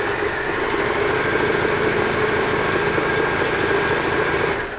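A sewing machine zigzag-stitches the edges of fabric for a kimono robe, running at speed in one loud, continuous mechanical whir with a fast, even needle clatter before stopping abruptly.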